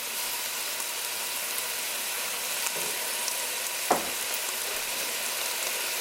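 Culantro and red pepper flakes sauté in a pot, giving a steady, even sizzle throughout with a brief stir or clink near the middle and no voices.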